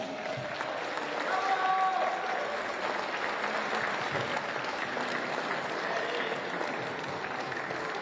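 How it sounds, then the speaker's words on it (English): Outdoor crowd applauding young U18 ice climbers on the final podium at an ice climbing Continental Cup in Sunderland, a steady wash of clapping and cheering with a couple of whistles, moderately loud throughout. "Round of applause for these young lads."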